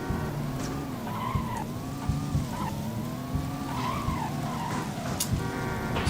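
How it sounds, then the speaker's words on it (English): Fast car in the original top-down Grand Theft Auto game, engine droning steadily with repeated tire squeals and skids, loud and continuous throughout with no talk. "Oh, this is a fast car."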